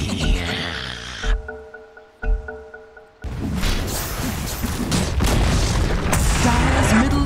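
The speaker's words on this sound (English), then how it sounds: "Dire's middle tower has fallen" A Dota 2 tower collapses with a heavy booming crash, preceded by short bursts of game effects and brief tonal chimes, then a sustained rumbling, crumbling roar of battle noise.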